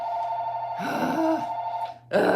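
A home telephone rings with a steady, loud electronic tone that holds for about two seconds, breaks off briefly, then resumes.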